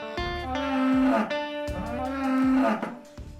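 Dairy cows on a mid-sized farm in Loyal, Wisconsin, give two long, loud, close moos one after the other, each a drawn-out low bellow that swells and then fades.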